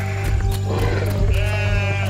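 Sheep bleat loudly and close by in a short, continuous run of calls over a low steady hum, with no talking.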